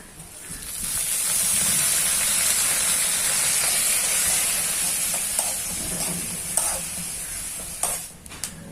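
Ghee heating in a pan for unniyappam, a sweet Kerala fritter, hisses and sizzles loudly and steadily, with occasional stirring clicks and scrapes near the end.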